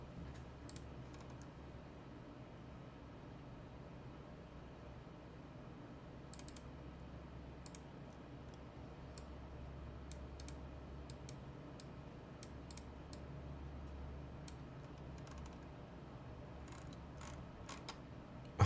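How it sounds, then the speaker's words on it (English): Typing on a Bubble 75 computer keyboard during a coding session: quick, light clicky keystrokes come in scattered bursts over a low steady hum, fairly faint and without talk. "Keyboard sound is delicious."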